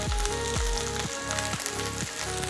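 Boiled potatoes frying in a hot pan for crispy fried potatoes give a steady, dense sizzle and crackle, with music playing underneath throughout.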